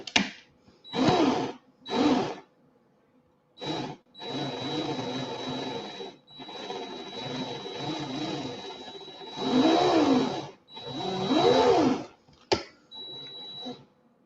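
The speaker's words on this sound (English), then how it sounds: "This drill's going faster than I want." Power drill used while building a Rebirth RDA, running in short bursts and then a long steady whirring stretch at speed, with a thin high whine and a few brief pauses.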